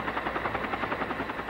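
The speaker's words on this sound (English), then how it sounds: "Helicopters present a different kind of noise problem, especially as the helicopter blade slaps the air." Helicopter rotor blades slap the air in a steady, rapid thumping pulse, a continuous chopping beat heard close and fairly loud with no talking.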